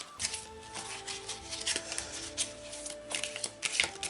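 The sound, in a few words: shuffling a heart-shaped guardian angel oracle card deck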